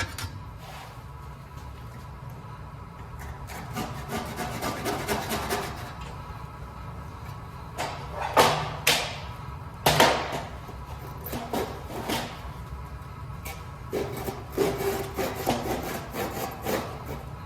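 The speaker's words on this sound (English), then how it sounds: "One of the tricks to hand saws, especially with these really aggressive teeth, is kind of let the saw do the work." A hand saw with aggressive teeth cuts through wood held hanging off the end of a bench, producing close rasping back-and-forth strokes in uneven bursts, alone without speech.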